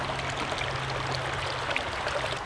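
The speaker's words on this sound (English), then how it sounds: "now I'm gonna run it through my sluice way down there." Water runs steadily through a gold sluice outdoors, a continuous close rushing and trickling without breaks or voices.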